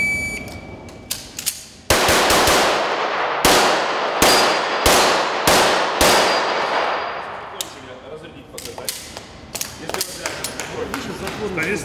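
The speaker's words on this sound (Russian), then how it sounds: "Станислав стреляет" Gunshots ring out at a practical shooting tournament: a rapid series of sharp, loud, close cracks fired in quick succession, each with a short ringing tail, followed by quieter clatter and faint background voices.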